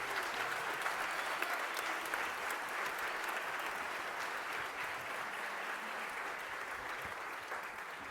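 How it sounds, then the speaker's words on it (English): A sustained round of clapping from a sizable concert audience, dense and even from start to finish with no voices standing out. "Can we give everyone another big round of applause?"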